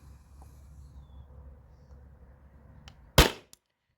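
A CO2-powered gun fires a PVC-coated steel ball from a 20 oz tank, one sharp close crack after a quiet low hum, followed by a small faint tick.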